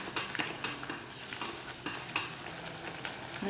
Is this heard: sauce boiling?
yes